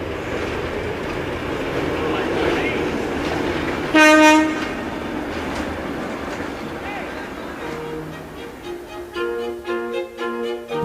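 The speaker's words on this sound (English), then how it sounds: "there is a huge train right outside the door" A large train rolls past just outside a former railway station, a steady rumble with a brief horn blast partway through, while people talk nearby.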